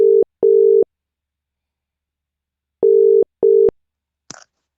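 Loud telephone ringback tones play while a caller is being called back, two double-beep pairs separated by a silent gap, followed by a short click.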